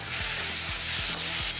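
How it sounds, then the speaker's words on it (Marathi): Masala paste frying with onion and a little salt in a pan, a steady close sizzle broken by four soft scraping stirs spaced at regular intervals. "अशा प्रकारे आपला मसाला परतून झालेला आहे."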